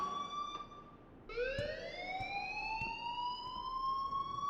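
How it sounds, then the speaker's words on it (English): A fire alarm wails in the Life Is Strange video game, a steady electronic siren tone that pauses briefly and then sweeps upward again, moderately loud and heard alone. "please turn off that alarm"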